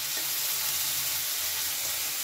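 Prawns fry in mustard oil in a wok, giving a steady, dense sizzle that stays close and even throughout with no voices over it.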